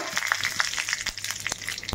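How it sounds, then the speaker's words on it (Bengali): Dried red chilli, nigella (black cumin) and mustard seeds temper in hot oil in a kadai, giving a dense close sizzle studded with rapid crackling pops. "এদিকে আমি এটা ফোড়ন দিচ্ছি।"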